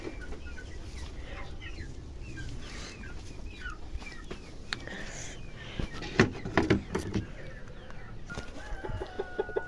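Chickens cluck and a rooster crows inside a henhouse, a steady murmur of hens with a louder burst of calls near the middle, all close by and without any talk.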